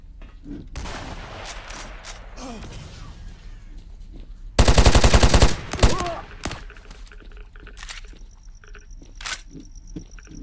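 A Gauss gun fires in the S.T.A.L.K.E.R. shooter, one loud electrified burst about a second long standing out among scattered clicks and softer thuds, with a brief voice reaction afterward.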